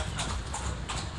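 Horse hooves clip-clop steadily as a horse and cart move through the streets of Marrakech, the rhythmic knocks set against a noisy outdoor background.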